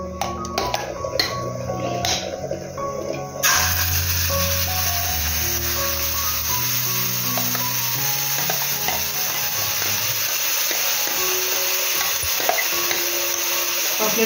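Green chili, ginger, garlic and coconut paste cooking in a pan, opening with a few clattering stirs before a loud, steady sizzle settles in and continues to the end.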